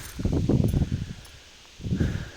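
Soybean plants rustle and flutter in bursts of wind, close by, with a quiet pause between gusts.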